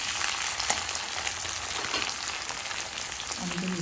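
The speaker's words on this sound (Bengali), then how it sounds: "দেখুন এবার একটু টমেটোটার সাথে একটু ভাজা ভাজা করে দিয়ে" Tomato and spices sizzle steadily in a hot pan for a radish and fish curry, a dense, continuous crackling hiss with small pops throughout and no voices.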